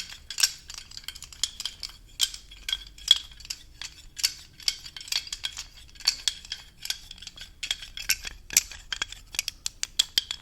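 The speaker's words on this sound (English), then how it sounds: "We're going to use this as a nice little rattle all around you." A small rattle is shaken slowly around the listener in a soft, close ASMR setting, producing a quiet, continuous patter of fine clicky ticks in an uneven rhythm with no voice.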